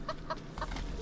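A penned chicken in the video game Evil Nun: The Broken Mask gives a few quick, faint clucks in a short burst over low game ambience.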